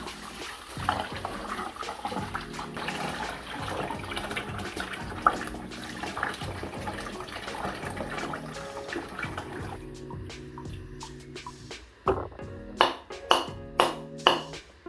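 Tap water runs into a normal dish while rice is washed for coconut rice, a steady splashing wash for about ten seconds, then a few sharp clinks and knocks as the water stops.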